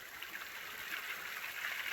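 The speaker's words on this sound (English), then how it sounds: "We got the water flowing now." Water gushing out of an old gold mine, a steady bright rushing flow, close and continuous with no voices.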